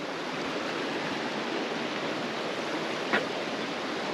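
A freshwater mountain stream in Peneda-Gerês, Portugal, rushing in a steady, dense broadband wash, close and continuous with no voices.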